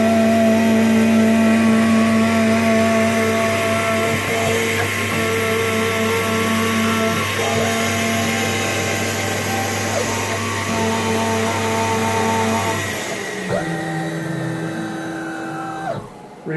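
An engraving machine cuts a label, giving a steady, loud motor whine with layered mechanical tones that holds for about thirteen seconds, then changes pitch and winds down near the end; no one speaks.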